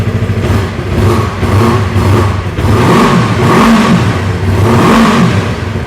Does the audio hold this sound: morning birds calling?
no